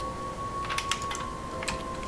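Typing on a computer keyboard, a handful of quick, light key clicks in small clusters over a steady faint background hum, close by with no one talking.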